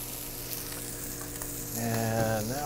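Raw lobster meat and leeks sizzle steadily in a hot pan; a constant close frying hiss swells louder toward the end, joined by a sustained tonal hum.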